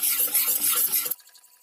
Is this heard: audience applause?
no